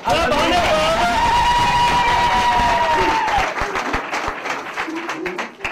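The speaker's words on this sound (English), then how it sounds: "Please clap hands for them." Guests at a wedding clap for the couple, a dense burst of applause that thins out toward the end, with a voice and background chatter mixed in.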